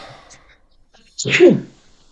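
A single sharp, loud sneeze bursts out close up after a moment of near silence, preceded by faint murmuring.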